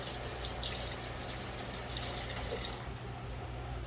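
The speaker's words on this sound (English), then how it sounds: "I'm going to rinse my spoon off" Steady running water from a kitchen tap splashes over a spoon being rinsed, a continuous close wash of noise with faint drips and no talking.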